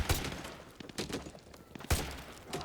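Sharp gunshots in Call of Duty: Modern Warfare 2 Remastered crack out in a few separate bursts, fairly quiet, with short gaps of softer noise between them.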